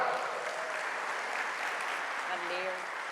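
A seated audience at a talk applauds in a continuous, moderately loud wash, with faint voices rising briefly underneath.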